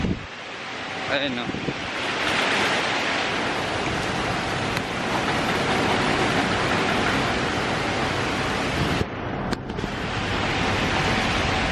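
Steady broadband wind noise rushing across the microphone throughout, with a voice speaking briefly near the start.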